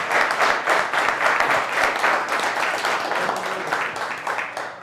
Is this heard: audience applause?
yes